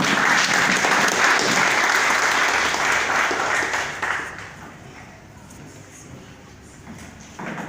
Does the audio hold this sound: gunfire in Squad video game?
no